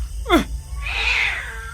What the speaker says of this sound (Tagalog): Malaking pusa lang yung nasa bubong